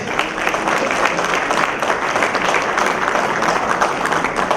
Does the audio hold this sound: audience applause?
yes